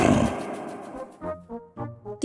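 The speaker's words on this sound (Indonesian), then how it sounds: "Singa marah dan ketakutan sambil mengaum dengan keras." A lion caught in a large net gives a loud, close roar that trails off into several shorter grunting bursts.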